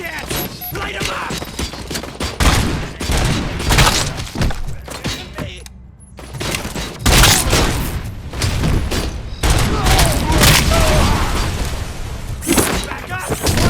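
Enemy gunfire in the video game RoboCop: Rogue City, with dense loud bursts of automatic shots and impacts that go on almost without a break, shouted voices mixed in and a brief lull partway through.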